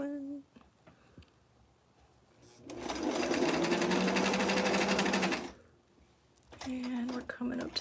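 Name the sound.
sewing machine stitching a Barbie doll dress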